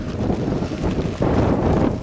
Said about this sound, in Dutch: Het waait een beetje, maar dan mag het pret niet drukken.